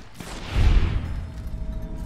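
A gunshot in Fallout New Vegas, a sharp crack followed by a deep, rolling boom that swells and then fades into a lingering rumble.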